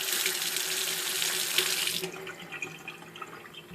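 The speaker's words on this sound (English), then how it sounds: "my new faucet." A new kitchen faucet runs steadily into the sink with a loud, even rush of water, then the flow changes to a quieter, lighter trickle partway through, with no talking.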